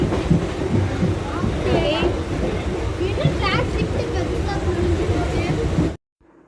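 Steady rumble and clatter of a moving Chennai local train carriage, with voices chattering throughout, ending abruptly.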